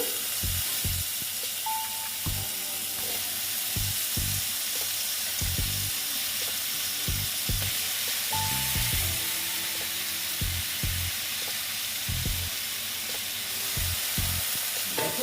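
Squeezed grated radish frying in a pan for a Bengali mulor ghonto, a steady sizzle broken by repeated scraping stirs and spoon knocks, close and alone with no talk.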